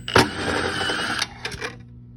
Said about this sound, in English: So I'll take this second screw out.